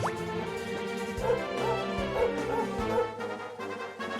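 Sandy the dog barks in Dragon Quest XI, a few short yips and bow-wows at a steady pace layered over ongoing game music.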